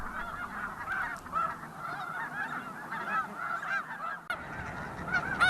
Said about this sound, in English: The snow goose breeds on the Arctic tundra and is one of the most abundant birds in North America.